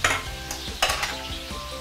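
Firm tofu pieces deep fry in oil for a fishhead stew, a constant close sizzle with scraping stirs and a few metallic clinks of a utensil against the pan.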